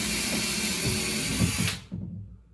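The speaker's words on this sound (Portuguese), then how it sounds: "Aí eu venho com a parafusadeira que está com a broquinha." A cordless drill driver with a small bit whirs steadily into wardrobe wood for under two seconds, then winds down abruptly, leaving a few faint knocks.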